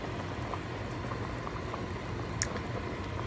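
Beef broth for beef mami simmers in a pot, giving a soft, steady bubbling hiss with faint scattered pops and one brief clink, heard alone without speech.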